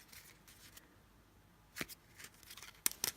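A stack of vintage fruit cards being handled and shuffled, giving soft papery flicks and a few sharper riffling bursts near the end, quiet and close with no talk.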